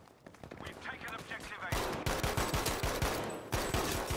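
M1 carbine fire in Battlefield V rings out as a fast, steady run of loud, close shots, rhythmic cracks that keep up for several seconds.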